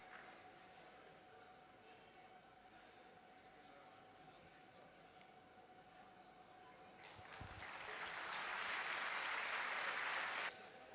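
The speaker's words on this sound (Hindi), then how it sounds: "एक बार भरपूर तालियां बजाएं।" Applause from an audience at an Urdu mushaira poetry gathering swells from a quiet murmur into a loud, sustained clapping burst lasting about three seconds before stopping abruptly.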